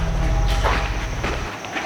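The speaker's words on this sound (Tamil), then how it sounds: "ஏதோ ஓடுது. சத்தம் மட்டும் கேட்குதானா எதுவும் கண்ணுக்கு தெரியல." Something runs unseen through the Jinn Paradox video game, a few soft footfalls thudding quickly over a low droning ambience for about two seconds, with no voices.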